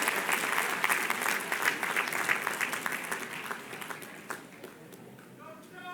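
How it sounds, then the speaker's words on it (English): Audience at a school assembly applauding steadily for several seconds, a dense wash of clapping that thins toward the end, with some voices mixed in. "Let's give them a round of applause for the time-honored tradition."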